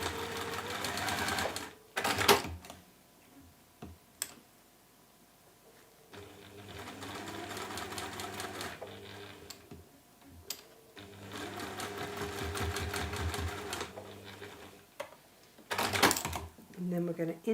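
A sewing machine stitches a ribbon and felt purse in several bursts of rapid, steady whirring separated by pauses, with sharp clicks and handling noises between runs and someone talking quietly in the gaps.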